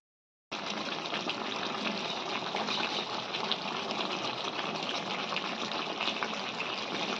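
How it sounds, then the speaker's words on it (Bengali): Meat cooking in a pot gives off a steady, continuous bubbling and hissing wash that starts abruptly and holds an even loudness throughout, close up with no talk. "যে মাংস রান্না হচ্ছে"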